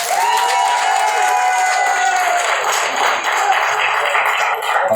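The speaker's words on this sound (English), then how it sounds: "If you love black people, clap your hands" An audience at a live comedy show applauding and cheering, continuous clapping with whoops and shouts over a steady roar of the crowd, loud throughout.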